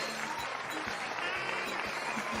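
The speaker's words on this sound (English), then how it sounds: "Oh, I'm keeping that clapping going for all you people" Faint, steady clapping from a small group carries on evenly under a low background hum, with no clear peaks or breaks.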